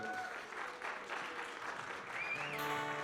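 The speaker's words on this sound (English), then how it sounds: "Give him a big, huge round of applause" Applause from the audience at a charity variety show honouring a departing co-host, a steady wash of clapping at moderate level with a whistled note rising near the end.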